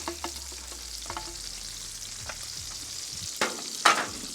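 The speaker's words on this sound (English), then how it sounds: "We're using that bacon fat to help cook the onions and jalapenos" Onions and jalapenos frying in bacon fat on a flat griddle give a steady, moderate sizzle, broken by a few scraping stirs and two sharper clatters near the end.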